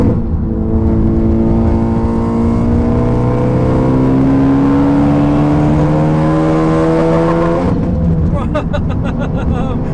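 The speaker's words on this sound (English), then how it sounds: "When this is fifth gear, I put my foot down and we're flying" A straight-piped, meth-injected Ford Focus ST accelerating hard in fifth gear, a loud, deep, droning engine note climbing steadily in pitch for several seconds before the throttle lifts into a crackling, popping exhaust burble, heard from inside the car.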